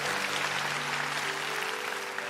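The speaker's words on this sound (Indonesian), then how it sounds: "Tepuk tangan untuk Tuhan." Church congregation applauding during a Sunday worship service, a steady wash of many hands clapping at even loudness throughout, with sustained tones from instruments or voices lingering underneath.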